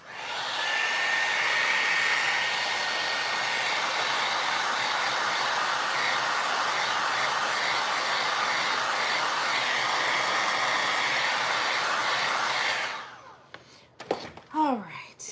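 A hair dryer blows steadily and loudly on a freshly poured mould for about thirteen seconds, then cuts off, leaving quiet handling noises and a brief voice.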